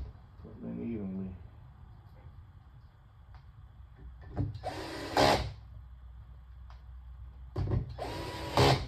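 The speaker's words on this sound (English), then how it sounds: "My drill is set on one." A cordless drill on its lowest setting drives screws during an LG 55LF6000-UB TV LED strip replacement, two short whirring bursts at close range with a brief voice and small handling sounds between them.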